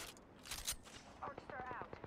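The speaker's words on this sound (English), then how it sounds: "Listen up, I'm getting shot at." Gunfire in the Apex Legends video game: a few short, sharp bursts of shots early on, followed by a voice talking over quieter game sound.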